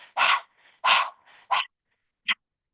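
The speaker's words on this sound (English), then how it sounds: "stick your tongue out and pant like a dog" Rhythmic open-mouthed panting breaths of breath of fire during a Kundalini yoga class, with the tongue out like a dog: four sharp, breathy bursts, close and fairly loud, with quieter breaths between them.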